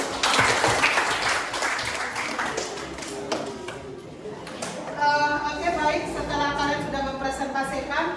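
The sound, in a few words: class applauding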